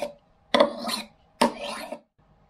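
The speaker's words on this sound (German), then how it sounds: "nachdem ich jetzt diesen Messer hier ein bisschen geschliffen habe" A steel knife blade is drawn across the rough, unglazed porcelain rim of a cup, giving two close, raspy scraping strokes, each lasting about half a second with a short gap between them.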